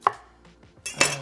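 A kitchen knife chops green peppers into cubes on a board, giving a few sharp, close clicks and knocks followed by a louder pair of clattering strikes.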